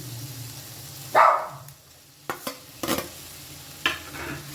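Boiled Maggi noodles with tomato are stirred in a pan, with a few scraping knocks and soft sizzling under a quiet background and no speech.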